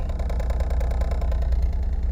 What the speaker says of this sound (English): Gonna let the car idle for a sec before I turn it off.